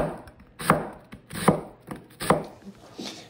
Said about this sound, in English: Then we need a red onion. I will slice this into, I think the word I was looking for earlier was half moons.